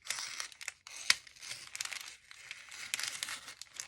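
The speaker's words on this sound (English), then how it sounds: "I'm just going to open it. Just going to cut this away." Paper in a blue jean journal is cut and torn away, giving close, busy crinkling and tearing with sharp snips and rustles throughout.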